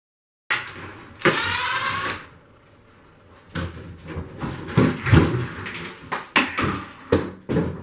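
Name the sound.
unscrewing stained glass window panel from wall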